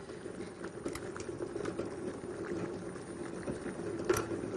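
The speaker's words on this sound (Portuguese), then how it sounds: "Então agora podemos observar que os dois já estão fervendo." Two pots of water at a rolling boil on a kitchen stove, a steady dense bubbling and hiss at moderate volume with small pops throughout and one sharper splash near the end, no voices.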